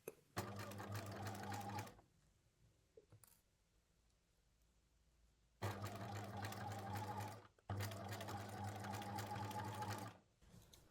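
A sewing machine runs in three fast, steady bursts of stitching, with quiet pauses and soft clicks between runs.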